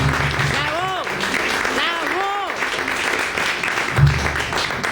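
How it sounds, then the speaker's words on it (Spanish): An audience at a folk music peña applauds for a guitar and charango player: dense, steady clapping that fills the stretch while a voice carries on above it. "Pido un fuerte aplauso para él."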